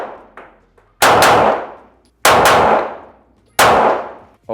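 Glock Gen 6 pistol fired at a cold range, three loud, close shots spaced about a second apart, each followed by a ringing clang from steel targets and a long decaying echo.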